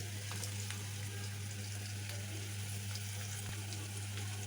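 Whole cloves, cardamom, cinnamon and peppercorns fry in oil for khichuri, giving a faint, steady sizzle over a constant low hum, with no voices.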